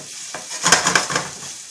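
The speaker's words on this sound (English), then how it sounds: "And we'll throw in some of the peppers. And we'll just give that a little stir." Peppers stirred in a hot frying pan, with a short burst of scraping and sizzling that swells midway and then eases, close and fairly loud, garlic shrimp and spinach cooking nearby.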